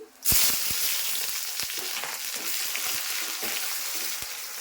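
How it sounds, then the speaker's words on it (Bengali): Cumin seeds, bay leaf and onion hit hot oil in a pan with a sudden loud sizzle that settles into a steady, close frying hiss, punctuated by a few sharp stirring clicks. "তেল গরম হয়ে গেছে আমি জিরা ফোড়ন দিচ্ছি তেজপাতা দিচ্ছি পেঁয়াজ ফোড়ন দিচ্ছি"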